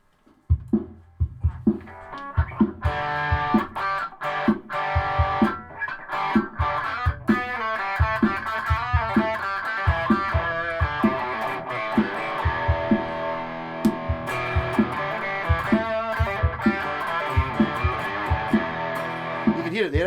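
A distorted electric guitar plays thick, crunchy chords over steady punchy drum hits, loud and continuous throughout.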